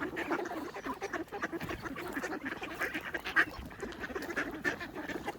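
Ducks quack repeatedly by a partly frozen winter river, over a busy, noisy background, the calls overlapping in a continuous chatter at moderate distance.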